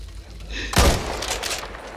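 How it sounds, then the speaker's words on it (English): A sniper rifle fires once in the video game Back 4 Blood, a single loud, sharp blast that booms like a shotgun and rings out briefly over a quiet background hum. "It is a sniper rifle, but it acts like a fucking shotgun sometimes."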